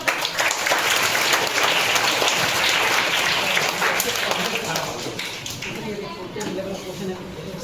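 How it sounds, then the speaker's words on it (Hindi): A room of schoolchildren claps loudly in a dense, continuous burst that gradually softens toward the end, with voices mixed in beneath the clapping. "जो बच्चे खड़े हुए थे उनके लिए ताली जाइए जोरदार"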